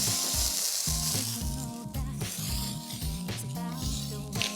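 Beef steak frying in plain cooking oil, not butter, on a street-food burger stall griddle, with a steady loud sizzle broken by repeated rhythmic scraping and clanking from tools.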